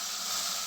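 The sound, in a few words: water added to a pan while cooking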